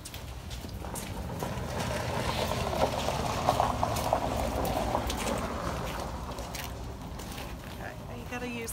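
A turkey in a heat shrink bag is dipped into 180 degree water, making continuous bubbling and sloshing water noise at close range. A voice talks over it throughout.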